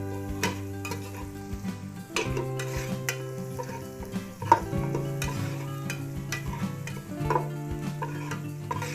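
Garlic sautés in a pan for Filipino beef pares, a crackling fry under repeated close scraping and clinking of a utensil stirring against the metal, with no voices.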